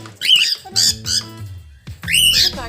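A pet cockatiel, injured, squawks loudly and close by in three or four harsh, raspy calls separated by brief pauses.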